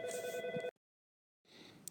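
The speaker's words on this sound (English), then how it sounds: "Sorry about the phone." A telephone rings in a short burst, cuts off into near silence, then starts ringing again, close and fairly loud.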